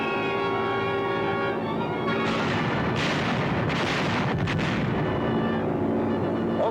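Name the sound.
bombs exploding from B-24 bombing run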